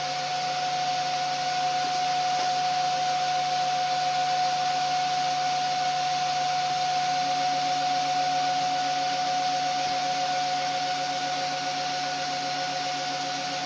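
A Hyper Drive motor on a TI controller runs at maximum RPM, producing a steady, even high-pitched whine with a constant airy hiss, unchanging and alone for the whole stretch.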